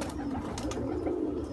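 Racing pigeons kept in Jeddah coo nearby, a soft, low, throaty burble that runs through the whole short moment with a faint background hum.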